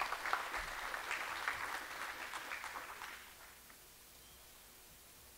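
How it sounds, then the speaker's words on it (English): Audience clapping at a school spring sports awards ceremony for the junior high team, a steady round of applause from a crowd that fades out over the last couple of seconds. "So let's give the junior high a round of applause."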